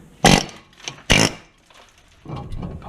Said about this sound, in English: We're going to put the little air hammer on it.